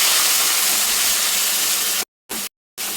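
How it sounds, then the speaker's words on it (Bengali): Loud, even sizzle of onions frying in a pan, broken by two short silent gaps near the end. "পেঁয়াজটাকে ভেজে নেবো"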